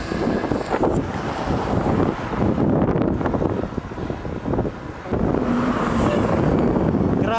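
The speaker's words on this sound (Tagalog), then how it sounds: "Grabe yung hangin." Strong wind roars and buffets the microphone almost continuously while cycling from North Caloocan toward San Fernando, Pampanga, dipping briefly before surging back loud and close.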